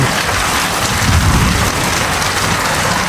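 Heavy rain falls on a village in a loud, dense, unbroken roar of drops, a steady close wash of noise with a faint low rumble beneath.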